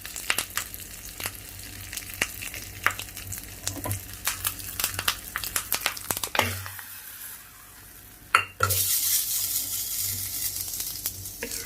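Mustard seeds, curry leaves and asafoetida sizzle in ghee for a pumpkin kootu, with rapid popping crackles and utensil clicks, a brief quiet gap, then a loud steady hiss.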